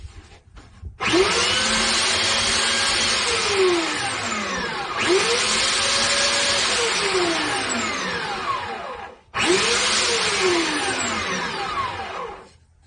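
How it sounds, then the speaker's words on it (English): A disc sander shapes a wooden lute ukulele part, its loud steady whine dipping in pitch each time the piece is pressed against the disc, in three long passes broken by brief pauses. "We'll clean it up on the disc sander."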